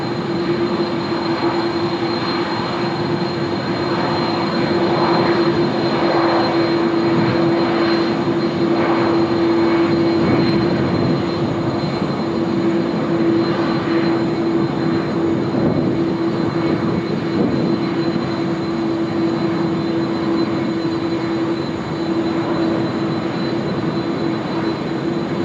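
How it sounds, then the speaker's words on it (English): General Electric CF6 jet engines on an airliner at Sydney Airport roar in a steady, loud, sustained drone with a clear whining tone on top, lasting throughout with no talking. "Beautiful sounds there of the General Electric CF6 engines"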